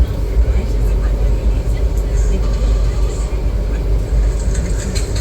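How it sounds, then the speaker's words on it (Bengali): Black Diamond Express passenger train pulling out of Kumardubi station after a one-minute halt, heard from on board: a steady loud low rumble and rattle of the carriage, with a voice talking over it. "কুমারডুবি থেকে ট্রেন ছাড়লো।"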